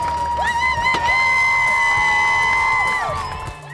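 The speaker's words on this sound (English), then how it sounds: "crowds lining the streets in southern Nevada tonight to celebrate their local Little League champions" A street crowd in southern Nevada cheers its local Little League champions. Loud, sustained whoops and shouting swell together, with a long high whistle or cheer carrying through the middle before the noise tapers off at the end.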